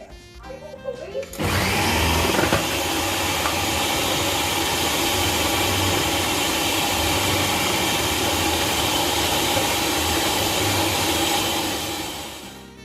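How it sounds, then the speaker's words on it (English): A food processor grating peeled sweet potato and other root provisions for a Jamaican sweet potato pudding, roaring on loudly and steadily for about eleven seconds after a short start, then winding down at the end. "I've already peeled all the provisions and I am now going to process them in the processor."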